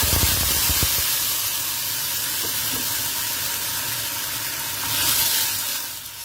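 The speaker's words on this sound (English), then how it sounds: "Now I am adding tomato puree." Tomato puree hits a hot pan of fried garlic and curry leaves, releasing a loud, steady hiss and sizzle that carries on throughout and swells briefly near the end.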